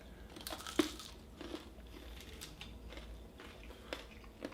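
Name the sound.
biting crunchy turon, Filipino fried banana roll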